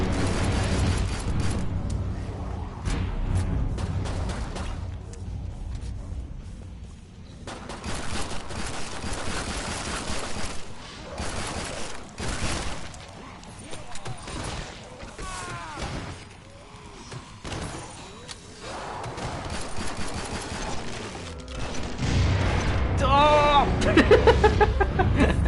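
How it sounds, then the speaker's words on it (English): Loud, chaotic booms and bursts of gunfire-like blasts from the video game Killing Floor 2 crowd a dense, noisy mix, with a voice shouting briefly amid the rumbling. "Explosions in the face!"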